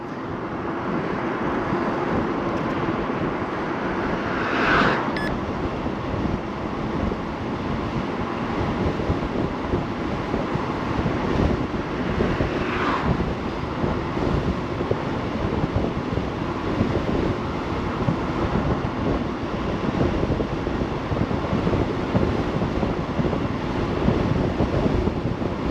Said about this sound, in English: even though it is very windy today